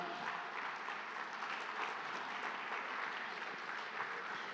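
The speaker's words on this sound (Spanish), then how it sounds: "dele un aplauso al Señor" A church congregation at a Sunday service applauds the Lord, a continuous even wash of clapping heard from some distance and fairly soft, with no voices on top.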